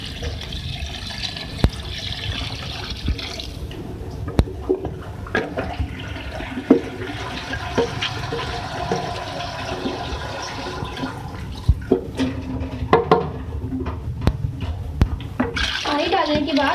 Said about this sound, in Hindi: इसके साथ मैं इसमें ऐड करूँगी पानी